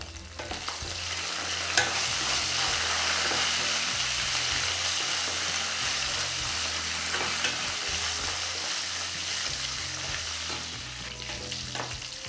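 Garlic and curry leaves fry in hot oil for a snakehead murrel fish curry, a steady close sizzle with occasional stirring scrapes and a few sharper pops, no speech.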